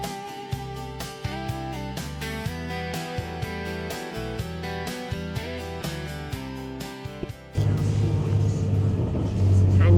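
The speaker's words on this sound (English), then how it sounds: "We are off on our little shuttle bus journey." A shuttle bus heading into Tromsø town, Norway, with engine rumble swelling loud and close in the last few seconds after a stretch dominated by music.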